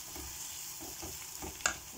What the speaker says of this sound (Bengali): মশলাগুলো আরও বাজবার লাগে